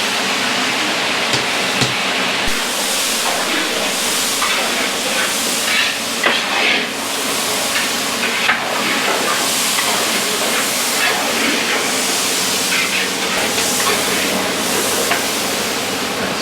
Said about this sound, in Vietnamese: phi hành chiên lên